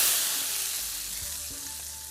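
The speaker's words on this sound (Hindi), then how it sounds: "इसके अंदर ये घी का तड़का," Ghee tempering sizzles in a pan for a cooked vegetable dish, a close, bright crackling hiss that starts loud and slowly fades.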